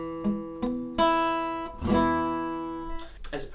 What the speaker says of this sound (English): That will just deaden the note and make it sound like this.